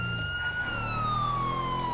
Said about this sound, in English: Gonna put my sirens on.